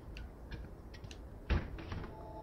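A door in the video game The Nightfall opens or shuts with a single soft thunk, fairly quiet and close, followed by a brief scrape over low room ambience.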